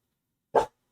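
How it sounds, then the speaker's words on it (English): Excited dog giving a single short, loud bark up close, alone against silence. "Crazy, excited dog."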